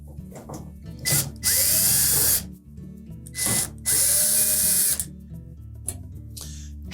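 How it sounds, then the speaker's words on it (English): A power screwdriver removes the screws across the top of a Samsung dryer panel during a thermal fuse repair: two loud, close whirring bursts of about a second each, with short clicks and pauses between them. "we'll remove the screws across the top"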